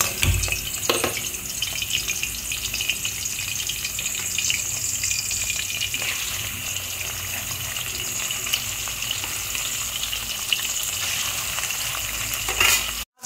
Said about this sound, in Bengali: তেল গরম হয়ে গেছে, এবার মাছগুলো ছেড়ে দিচ্ছি।